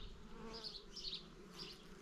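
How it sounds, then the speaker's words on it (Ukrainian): Quiet, continuous buzzing of many honey bees in an apiary hive, a soft low drone with faint swells, ending in a sharp click. "бджоли гудуть."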